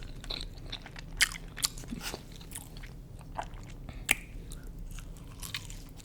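Close biting and crunchy chewing of Sabrosa Vegana ham and cheese Puerto Rican vegan food, with several sharp crisp bites over steady soft mastication and no talking.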